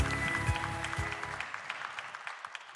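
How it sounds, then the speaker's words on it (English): Once a voice at a Bitcoin and bonds conference panel finishes, scattered claps follow, fairly faint and thinning out as they go. "A round of applause for Marty Bent and Dr. Andrew Cones"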